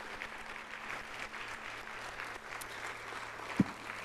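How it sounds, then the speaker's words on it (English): Conference audience applauding speaker Liz at a Thursday afternoon closing session, steady sustained clapping from a crowd filling the room. "Let's give Liz another big round of applause"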